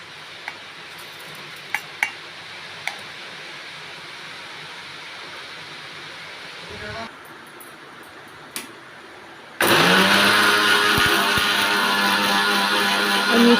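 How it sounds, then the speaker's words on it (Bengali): An electric mixer grinder blends ginger, cumin, chili, garlic, onion, garam masala and black pepper in a home kitchen. Quiet clinks of utensils come first, then the motor bursts into a loud, steady whirring grind for the final four seconds. "আমি একসঙ্গে আদা, জিরে, লঙ্কা, রসুন, পেঁয়াজ, গরম মশলা, গোলমরিচ একসঙ্গে সব আমি মিক্সচার করে নেব।"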